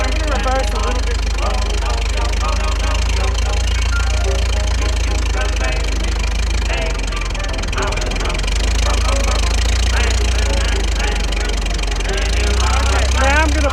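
A 1926 Ford Model T touring car engine running as the car reverses, a loud, close, steady mechanical rumble and clatter that holds throughout without a break.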